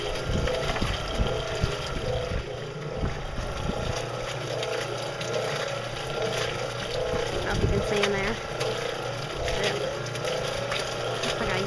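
A cement mixer churns clay, sand and water for cob beside a greenhouse, a steady mechanical rumble with irregular sloshing and knocking throughout, close and fairly loud, with faint voices underneath.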